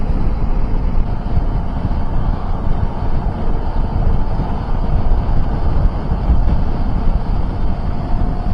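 Steady, loud wind rush from riding a KTM 790 Adventure motorcycle at motorway speed behind its screen, a smooth continuous broadband roar with no buffeting pulses.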